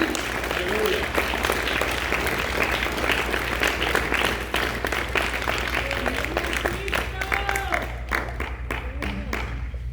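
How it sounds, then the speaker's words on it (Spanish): A church congregation claps and cheers in sustained applause, dense and lively, with individual sharp claps standing out near the end as it thins, and voices calling out underneath. "Dale ese aplauso al Señor que no es para mí."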